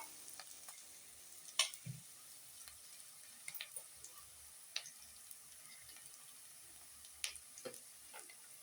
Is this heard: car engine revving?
no